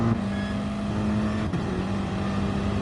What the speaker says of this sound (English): Look, short shifting through 5th into 6th.